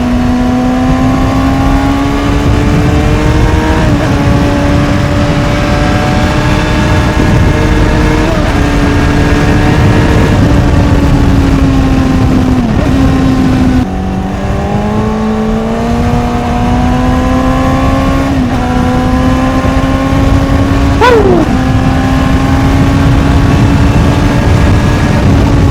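A Honda CBR600RR motorcycle on a night ride, its engine a loud, steady drone from the rider's position with several upshifts and rising revs, wind rush running underneath.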